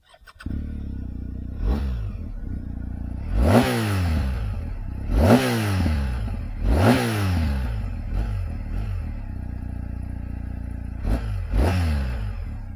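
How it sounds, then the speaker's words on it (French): A 2019 BMW R 1250 GS motorcycle engine fires up, then revs sharply several times, each throttle blip rising and falling, close by and loud. "Allez, sans tarder on démarre le moteur, histoire que vous entendiez ça."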